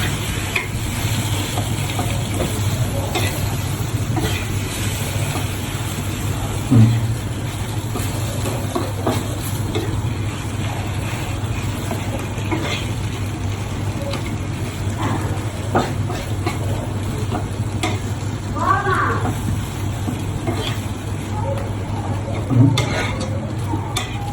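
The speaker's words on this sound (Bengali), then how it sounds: "ভালো করে নেড়ে নেব।" Mashed potato and egg are stirred with ghee in a pan, giving a continuous soft sizzle with scraping spoon strokes and an occasional clunk, close and steady.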